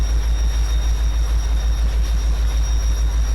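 A train runs along a railway in the Farming Simulator 25 logging game, a steady loud low rumble with rhythmic pulsing wheel beats and a faint high whine, no voices.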